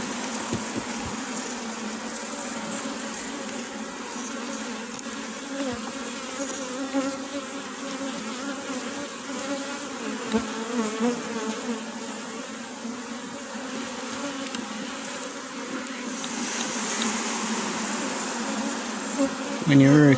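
Honeybees hum continuously around an open hive during a spring inspection, a dense close buzz that holds steady for the full stretch with a slight swell near the end.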